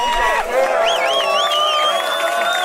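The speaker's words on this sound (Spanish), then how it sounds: "¡Fuerte el aplauso por este batallón, damas y" Crowd at an outdoor freestyle rap battle in the rain cheering and whooping, with high whistles rising above the dense roar throughout.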